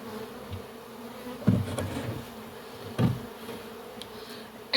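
A honey bee swarm hums steadily around an open hive box outdoors, a continuous mid-level drone with a couple of brief louder bumps, and no voices.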